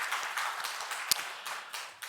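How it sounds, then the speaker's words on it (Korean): A church congregation claps in praise during a Sunday morning worship service, with scattered uneven bursts of clapping and one sharp, louder clap near the middle. "우리 하나님께 영광의 박수 올려드리겠습니다"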